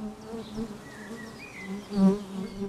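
Bees buzz around orchard flowers, a steady close drone with a few louder swells as insects pass near, and no voices.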